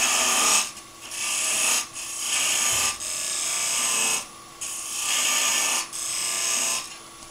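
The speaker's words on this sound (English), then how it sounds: "So we're going to have another V cut up with a tool rest now." A turning tool cuts a V groove into dimensional timber spinning on a wood lathe, giving repeated scraping, rasping bursts of about a second each with short quiet gaps between them, close and fairly loud, with no voices.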